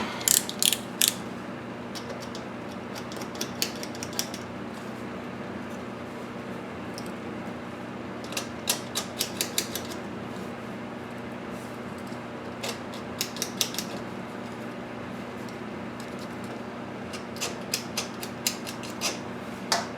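Enamel coating is scraped off magnet wire with a blade, producing scattered bursts of dry scratching and clicking over a steady background hum, close and fairly quiet, with no speech.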